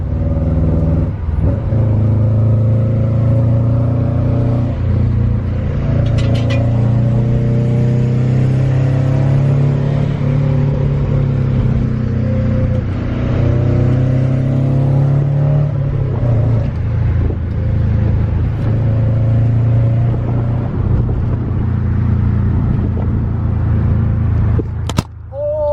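Car with eBay wheel spacers accelerating on a highway, a steady engine drone with rising revs and road rumble heard close from inside the cabin, continuous throughout with no talk.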